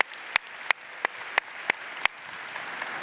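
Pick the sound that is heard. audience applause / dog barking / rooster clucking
audience applause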